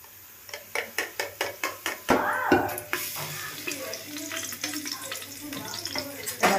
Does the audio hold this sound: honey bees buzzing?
no